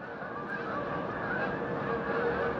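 Faint honks of geese flying overhead drift over a constant background hum, a few scattered calls rather than a loud chorus.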